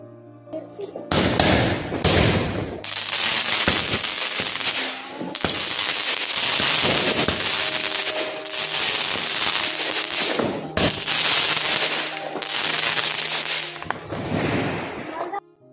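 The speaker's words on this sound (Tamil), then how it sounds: "முதல்ல வெடிச்சது 10 ஷார்ட்ஸு," A 10-shot Diwali firecracker bursts outdoors in a rapid run of loud, sharp bangs and crackles, near and forceful, with short pauses between volleys.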